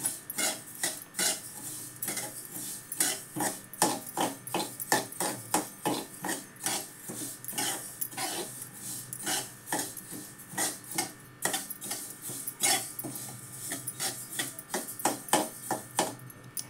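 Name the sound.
sesame seeds being roasted in a pan on low gas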